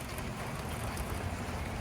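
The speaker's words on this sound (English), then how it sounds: "It's raining outside right now." Rain pours steadily outside on a cozy baking day, a soft continuous hiss with faint scattered patter, distant and low in level.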